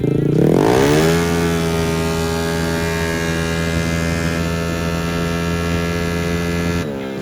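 A modified Honda Vario 300cc scooter engine runs on a dyno, revving up sharply at first and then holding a loud, steady drone before dropping off near the end.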